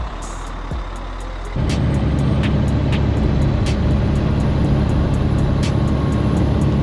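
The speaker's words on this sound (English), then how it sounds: "getting our truck nice and warmed up" A car hauler truck's diesel engine idles as it warms up outside a Fort Lauderdale hotel in the morning: a steady, close rumble that steps up louder after a moment and then holds even, with faint regular ticking over it.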